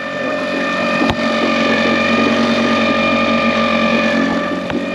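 A Tohatsu outboard motor runs after an impeller replacement, its water stream flowing, making a loud, steady, close drone with a constant engine whine and two brief knocks.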